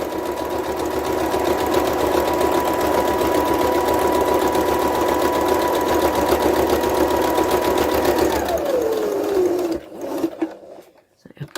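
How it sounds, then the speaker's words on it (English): Sewing machine stitching across the gap in a fabric face covering, a loud steady close-up motor hum and rapid needle chatter running continuously before winding down and stopping near the end. "Now you're going to sew over that gap."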